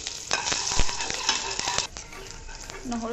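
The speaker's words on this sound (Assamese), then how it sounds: "নহৰুখিনি অলপমান ব্ৰাউন হোৱালৈকে ভাজিছে" Halved garlic cloves fry in hot oil in a pan, a close, continuous sizzle broken by repeated scrapes and clinks of a spatula stirring against the metal.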